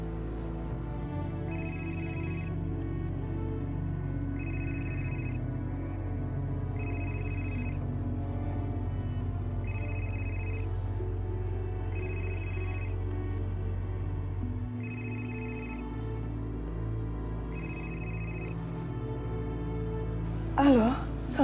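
A telephone ringing in an Indonesian TV drama scene at night, with short evenly spaced ring tones repeating about every two and a half seconds over a low background hum.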